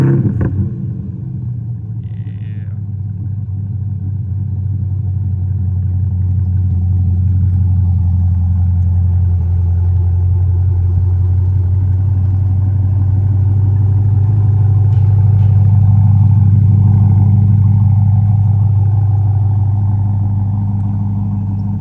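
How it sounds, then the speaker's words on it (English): A Corvette C8 fitted with an SPD-Z1 exhaust, already warm, burbles at a deep, steady idle, then rises through a couple of smooth revs and settles back, loud and close, with no talking. "But the SPD-Z1 exhaust sounds pretty good too."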